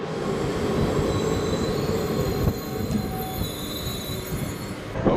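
A train rolls through a station in Trikala, Greece, its wheels squealing in high drawn-out tones over a steady rumble of rail cars, close and loud throughout.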